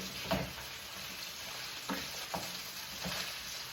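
Gnocchi fry in a cast iron skillet, a faint, steady sizzle with a few soft scrapes and stirs breaking through now and then.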